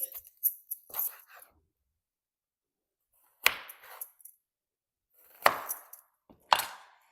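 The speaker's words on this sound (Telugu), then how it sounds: "ఇప్పుడు దీన్ని కట్ చేస్తున్నానండి ఇలా కట్ చేసి నాలుగు ముక్కలు చేయాలండి" A knife cuts a washed bottle gourd into four pieces: sharp chopping strikes in short clusters separated by long silences, close and crisp, with no one talking.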